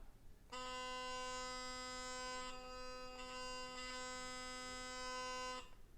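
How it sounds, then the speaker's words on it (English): A sonic electric toothbrush fitted with an aftermarket Kavard brush head hums steadily for about five seconds in a high, buzzing drone with brief pulses, close and alone with no talking. "Let me just power it up to show you guys."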